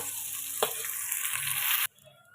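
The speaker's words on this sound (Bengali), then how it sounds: "গোবিন্দভোগ চালটা ভালো করে ভেজে নিয়েছি" Gobindobhog rice fries in a pan with cinnamon, green cardamom and cloves, a close, bright crackling sizzle that stops abruptly and leaves near quiet.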